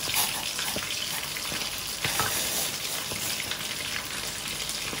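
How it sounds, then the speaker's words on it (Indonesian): Steady hiss and sizzle of boiling water poured over fish, a continuous rushing crackle with a few small knocks, loud and close. "nanti kita siram sama air yang udah mendidih"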